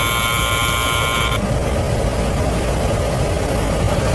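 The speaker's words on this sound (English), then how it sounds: "Take your finger off that bleeding buzzer." A door buzzer held down in a flat, then released, a harsh electric tone over a steady low rumble of background noise, loud and alone.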